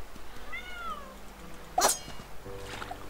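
A small cat in the video game Mini Ninjas gives a short, rising meow, followed by a brief bright chime and soft background game music, with no talking.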